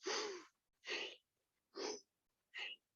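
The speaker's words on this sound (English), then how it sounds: "You'll hear me breathing because I'm not on mute." Four quick, forceful breaths are drawn and pushed out at a steady rhythm during guided breathwork practice. The breaths are close and clear, with short silences between them and no talking.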